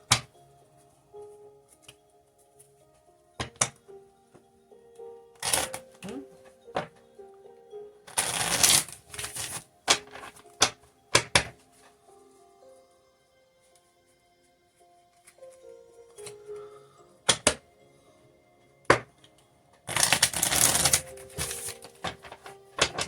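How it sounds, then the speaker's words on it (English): Tarot cards are shuffled in two quick riffling bursts, separated by scattered light taps, soft handling sounds and quiet stretches. "Get one more shuffle in here"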